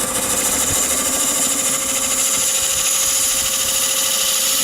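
Wood lathe turning a maple salt box as a tool makes passes on the inside, a continuous loud whirring drone with a steady high whine and scraping texture, close and uninterrupted.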